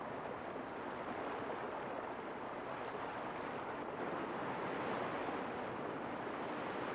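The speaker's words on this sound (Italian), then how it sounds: "Il flusso incessante dell'acqua scava lentamente ma inesorabilmente il duro granito." Rushing mountain water in the Teton range pours over hard granite, a steady, even roar of white-noise flow, moderately distant and unbroken, with no voices.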